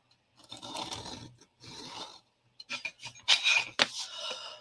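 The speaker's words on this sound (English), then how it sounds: "I'm just drawing a frame that is 1/2 an inch." A pencil draws a frame on paper, making close, dry scratchy strokes in several separate bursts, the later ones louder and quicker.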